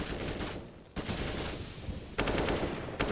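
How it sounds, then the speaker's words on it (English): Counter-Strike match gunfire in an esports broadcast, bursts of rapid automatic shots in a few distinct volleys, fairly dense and mid-distance, over a steady game background. "shots are just rallying past Acor, but he's not moving a muscle"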